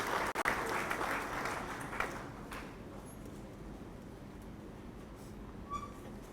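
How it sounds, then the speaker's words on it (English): Applause from an audience at a regional cocoa research symposium honours a breeders group chair, a moderate, fairly distant patter of clapping that is strongest at first and then tapers to a softer background rustle. "Please a round of applause for her."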